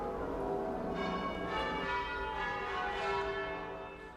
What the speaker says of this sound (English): the bells have been ringing a lot during the day, all over the city